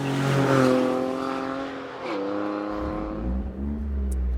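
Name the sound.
Morgan Super 3 engine with sports exhaust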